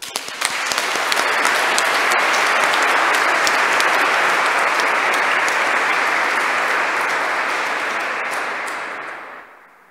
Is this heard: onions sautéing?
no